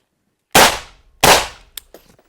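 Two loud, sharp suppressed rifle shots from an M400 fitted with a Silent Steel flow-through suppressor ring out about 0.7 seconds apart, each decaying quickly, followed by a couple of faint metallic clicks.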